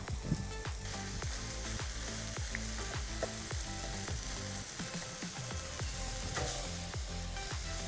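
Paneer roll stuffing cooks in a pan on a gas stove, sizzling and frying steadily with repeated scraping and stirring strokes of a utensil, close and continuous without speech.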